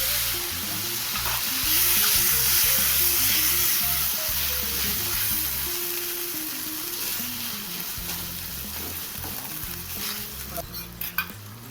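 Soy sauce, chili sauce and tomato sauce sizzle loudly over frying party snacks in a pan, a steady close crackling hiss with occasional stirring scrapes and no talk.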